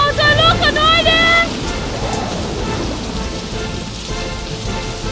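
Heavy rain pours down as a steady, dense hiss, with a voice heard briefly at the start.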